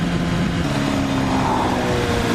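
Kawasaki ZX-10R motorcycle engine running after starting, a loud, steady broadband rumble with a continuous low drone, close by with no talk.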